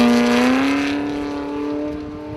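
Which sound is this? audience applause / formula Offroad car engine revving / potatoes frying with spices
formula Offroad car engine revving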